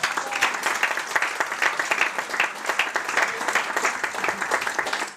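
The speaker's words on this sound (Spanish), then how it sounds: "Un aplauso para ellos" A crowd applauds warmly, many hands clapping in a dense, steady patter that holds for several seconds without cheering or talk.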